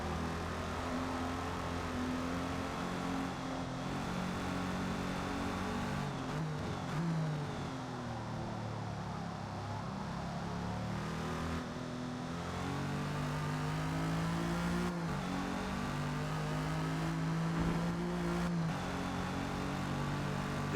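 A 1956 Jaguar D-Type racing in Forza Motorsport at Maple Valley drones steadily near and loud, engine pitch rising and falling as the throttle is eased and reapplied through shifts, with no talk.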